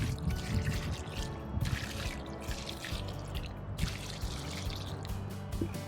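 Fertilizer water for roses, soaked overnight, is poured into a planting hole for a bare-root rose outdoors, making a steady splashing and trickling close by.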